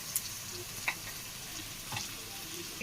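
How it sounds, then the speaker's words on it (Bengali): Onions fry in a pan with a soft, continuous sizzle, and a spoon stirs through them in a few scattered clinks and scrapes, quiet and close. "এটাকেও আমি পেঁয়াজের সাথে ভেজে নেব।"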